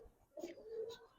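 Giribaz coloured highflyer pigeons give a soft, faint coo, a short low warble with a quiet second note, heard close in a calm setting.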